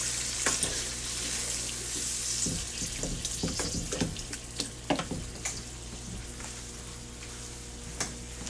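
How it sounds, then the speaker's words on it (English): Water pours from a tap into a hot pan of browned ground beef for goulash, running steadily with scattered clinks and stirring. "Add some water."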